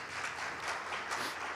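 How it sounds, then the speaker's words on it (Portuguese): A church audience applauding, a brief, moderately quiet wash of many hands clapping at once. "Você pode dar um aplauso bem forte ao Senhor?"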